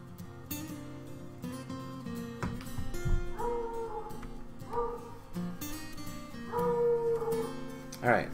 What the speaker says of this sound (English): Okay, doggy, you can calm down now.